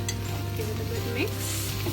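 Soya fried rice being stirred in a hot pan with coriander, a steady sizzle and frying hiss under continuous scraping and stirring, close and even throughout.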